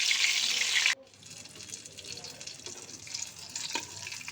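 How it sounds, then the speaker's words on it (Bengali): Eggplant pieces drop into hot oil with a loud, dense sizzle for about a second, then settle into a softer, steady crackle of frying in the pan. "প্রথমে আমি এখানে বেগুনগুলো ভেজে নেব।"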